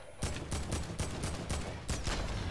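Rapid gunfire from the Fortnite video game comes in loud, broadband bursts, roughly six evenly spaced shots close together with no talking.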